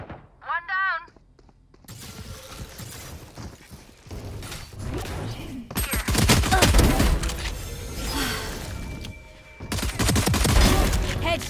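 Rapid gunfire from a shooting video game, loud bursts and volleys dominating the second half after a short electronic chirp, with scattered whooshes and mechanical clatter between shots.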